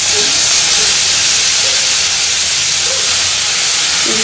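A pressure cooker lets off steam in a loud, steady, continuous hiss nearby in a home kitchen. The sound holds at an even level throughout with no pauses.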